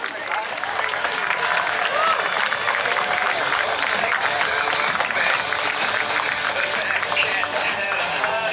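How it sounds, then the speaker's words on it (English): An outdoor air show crowd applauds, dense and continuous clapping mixed with crowd noise that holds at a fairly loud, even level throughout. "Please give them a round of applause."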